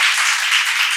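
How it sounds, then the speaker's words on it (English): A lecture-hall audience at an academic session breaks into a brief round of applause, a dense, even wash of clapping lasting about a second. "again a big round of applause for"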